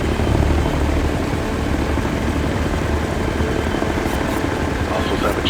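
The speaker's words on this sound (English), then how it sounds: "Hostiles have a chopper." An enemy helicopter in the shooter game Ghost Recon: Future Soldier, its loud, steady rotor and engine roar filling the scene without a break, close and constant.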